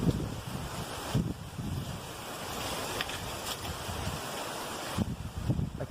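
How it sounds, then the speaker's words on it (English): Strong wind blowing through a mango tree in a garden, a continuous roaring rush with buffeting gusts on the microphone, loud and close with no talking. "That wind is crazy."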